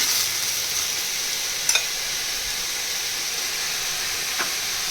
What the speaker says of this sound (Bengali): এদিকে আনাজ কষানো হচ্ছে ভালো মতো